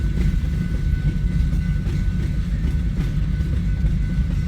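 Train rolling steadily through BNSF Hobson Yard in Lincoln, Nebraska at night, a continuous loud low rumble of wheels and cars close by with no break over the whole stretch.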